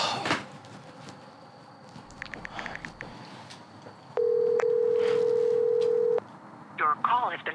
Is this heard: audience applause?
no